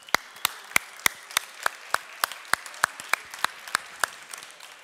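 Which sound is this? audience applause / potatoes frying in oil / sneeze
audience applause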